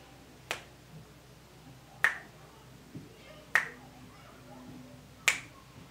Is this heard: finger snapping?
yes